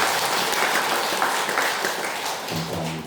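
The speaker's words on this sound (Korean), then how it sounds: "우리 뜨겁게 환영의 박수하겠습니다" A church congregation claps in warm welcome during a Sunday service, a dense, steady wash of applause that fills the room for a few seconds and then begins to thin out.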